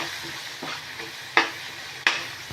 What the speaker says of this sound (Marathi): आता हे मसाले छान असे तेलावर कांद्यामध्ये परतून घ्यायचे